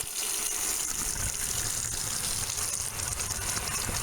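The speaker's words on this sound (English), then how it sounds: "Next, add water to your sink." Tap water gushes steadily into a plugged sink filling for hand-washing tights and leotards, a loud continuous rushing stream with no talk over it.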